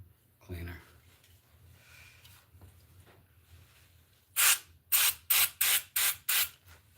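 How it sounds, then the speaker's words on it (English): Parts cleaner sprays from an aerosol can in six short, loud, close hissing bursts at a steady rhythm, following a few seconds of quieter handling sounds and a brief knock. "So I'm gonna just spray a little of this parts cleaner."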